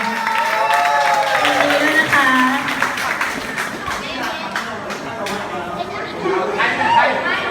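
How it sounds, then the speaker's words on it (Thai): A large crowd claps and chatters continuously while voices carry over a loudspeaker at a university campus pageant award ceremony in Thailand, the applause blending into a steady busy hall noise. "ขอเสียงปรบมือให้ดาวประจำรุ่นเก้าของเราด้วยครับ"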